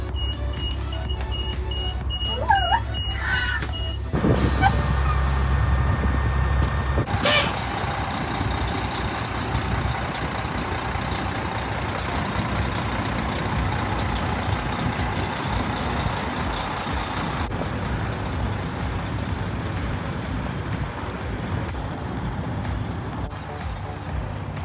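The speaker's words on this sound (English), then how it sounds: "Dad moved the bus out of the spot" A family's bus pulls out of its parking spot, its engine rumbling steadily up close with a hiss like an air brake near the start, while faint beeps and a brief voice sound in the background.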